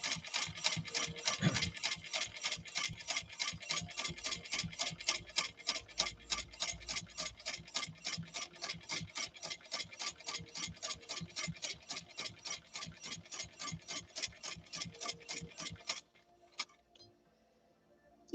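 Kathi Pecor's 170th Anniversary sewing machine stitches through denim in a fast, even run of rapid mechanical ticks lasting about sixteen seconds before stopping abruptly.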